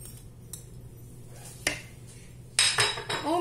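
Pasta being stirred together with grated cheese and parsley in a pan, a few metal utensil clinks and scrapes against the pan, sparse at first and then busier near the end, fairly close.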